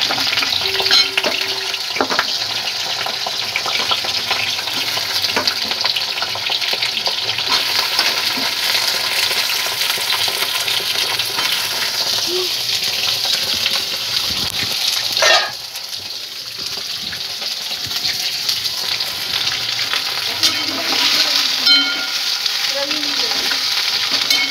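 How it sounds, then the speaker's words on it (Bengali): Eggplant frying in a pan, a steady loud sizzle with crackling spatters running throughout, shifting slightly as pieces are stirred, with no voices. "এবার বেগুনটা ভাজব"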